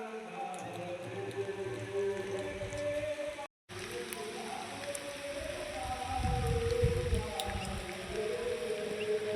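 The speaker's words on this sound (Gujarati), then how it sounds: "અને વરસાદે ચાલુ હ." Steady rain falls in hilly country under dark clouds, a soft continuous hiss with a brief dropout. Some low rumbling comes in partway through.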